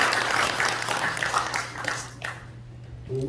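Audience at a Dongguk University forum applauding, dense steady clapping with a low hum underneath, tapering off before a brief voice near the end.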